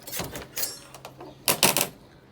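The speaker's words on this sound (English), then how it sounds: "get the door open." A caravan door being opened, a short run of close clicks, rattles and knocks from the latch and panel, ending in a cluster of louder clatters, with no talk.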